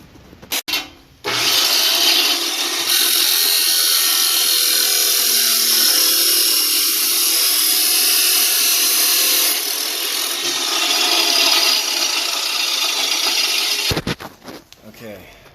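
A power saw slices through metal stock for radiator mounting brackets on a 1998-2002 Subaru Forester, a loud continuous grinding whine lasting about twelve seconds before stopping.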